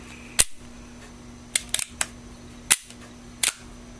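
Handgun hammer being cocked and worked during disassembly, a series of sharp metallic clicks, some single and one quick cluster, close and crisp against a quiet background.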